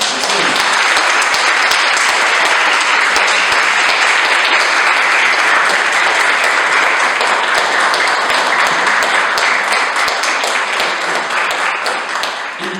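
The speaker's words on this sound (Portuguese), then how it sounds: "eu queria que os irmãos dessem uma salva de palmas para os nossos pastores nesse momento" A church congregation at a Baptist service gives its pastors a long, sustained round of applause, dense and loud, filling the room evenly for the whole stretch without pause.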